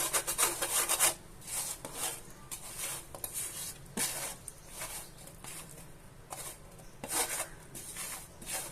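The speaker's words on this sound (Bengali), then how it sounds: "এগুলোকে ভালো করে মাখিয়ে সবগুলোকে সেপারেট করে নেব" Chicken pieces tossed and rubbed by hand in breadcrumbs, a dry gritty rustling in uneven bursts, close up and moderately loud, with no voices.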